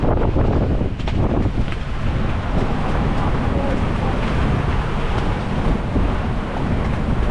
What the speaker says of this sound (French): on est dans 20-25 nœuds de vent